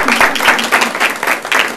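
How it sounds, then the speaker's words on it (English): Audience applause at a small community gathering, steady dense clapping in rhythmic swells across the clip, fairly loud and close. "Let's give him another round of applause"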